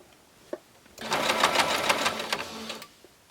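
A sewing machine runs in one steady burst of about two seconds, locking a stitch on a fabric bowl cozy. The motor whirs close and loud, with a faint click before and after.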